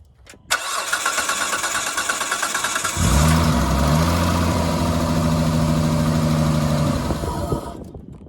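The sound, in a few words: Dodge Stratus RT engine running on carburetor cleaner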